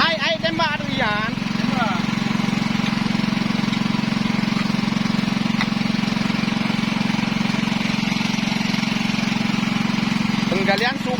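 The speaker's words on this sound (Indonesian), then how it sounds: "Penggalian sumur bor ya." A bore well drilling machine's engine runs steadily and loudly throughout, a constant low mechanical drone with a few brief higher whistling sounds near the start and end.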